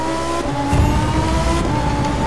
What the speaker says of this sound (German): Das ist eine Fehlzündung, wenn du schaltest.